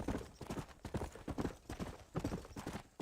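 A horse's hooves clip-clop in Red Dead Redemption, a quick steady trotting rhythm of soft repeated beats, fairly quiet and continuous with no voices.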